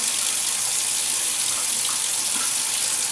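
Tap water runs steadily and hisses into an ice cube tray, close and continuous, with no voices.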